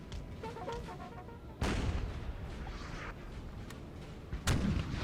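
Cannon artillery booms in a Napoleon: Total War battle, with two loud, sharp blasts over a continuous rumbling din of distant gunfire and battlefield noise, no voices.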